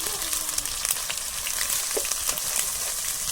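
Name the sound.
onion paste, cumin, garlic, ginger and dried chili frying in pan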